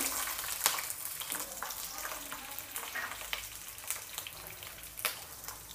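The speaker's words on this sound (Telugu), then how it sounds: "కొంచెం పచ్చిమిర్చి ఇట్లా లైట్గా వేగనివ్వండి." Green chillies fry in a few tablespoons of hot oil, a steady close crackling sizzle with scattered sharp pops, no voices.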